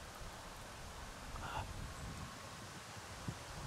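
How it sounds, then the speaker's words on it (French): Gusty wind blows outdoors near vineyards on a December day, a steady broadband rush with a slight swell midway, close to the microphone and with no voices. "à l'instant que j'ai commencé à filmer là, il y a eu des rafales de vent"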